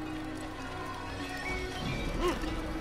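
Horse hooves clip-clop in Assassin's Creed, a muffled steady trotting under game ambience and a low background hum, with a brief louder thud near the end.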